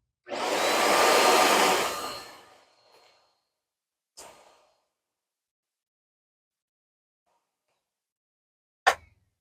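Riccar Premium Pet upright vacuum cleaner running loud for about two seconds then winding down, followed by a short burst around four seconds and a sharp click near the end, with silence between.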